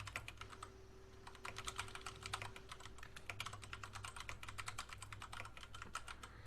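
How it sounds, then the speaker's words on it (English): Fast typing on a computer keyboard, a dense run of close, crisp key clicks and taps that goes on steadily with no pauses and no speech. "Matt, can you vamp while I'm clicking around?"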